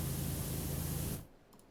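Pressure washer spraying in the game PowerWash Simulator, a loud steady rushing hiss of water jet that cuts off abruptly, leaving quiet afterward.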